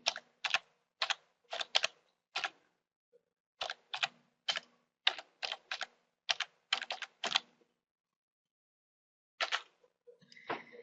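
Keys on a computer keyboard click in quick, distinct taps while a domain name is typed, with a pause partway and a few softer clicks at the end, close and fairly quiet.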